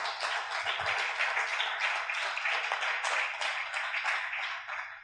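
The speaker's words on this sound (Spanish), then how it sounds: "Aplauden al Eterno." A church congregation claps together in continuous, fairly loud applause with a rhythmic texture, sustained for several seconds.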